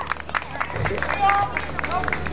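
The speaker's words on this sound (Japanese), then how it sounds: "さあ皆さん拍手でお願いしますどうぞ" An audience at an outdoor 2010 park golf festival in a forest welcomes performers with scattered claps amid crowd chatter and a nearby voice.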